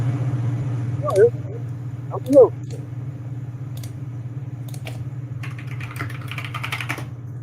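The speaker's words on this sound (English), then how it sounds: "I can hear you, but I can hear your typing" Soft, scattered keyboard clicks over a steady low hum, with a couple of louder taps early on and a faint voice in the background.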